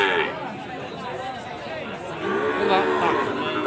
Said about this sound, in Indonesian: Ini sapi pedet-pedetan ini.